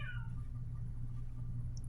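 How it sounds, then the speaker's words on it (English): A single short cat meow sounds at the very start, fairly faint, over a steady low hum. "that's a cat who is being very needy"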